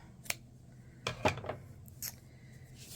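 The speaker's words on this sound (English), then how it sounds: "We're just going to cut it." Scissors snip through Bernat Black yarn for a crochet pumpkin stem, a few quiet crisp cuts spaced apart over about three seconds, nearby and alone with no talking.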